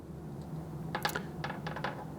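Tiny screws for a Garmin Approach S10 watch band dropping into band holes, a few small metallic clicks and ticks in quick succession against quiet room tone.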